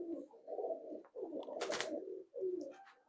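Oman teddy golden dalfwala pigeons coo in low, throaty rolling phrases close by, one call after another, with a short burst of hiss or wing noise partway through.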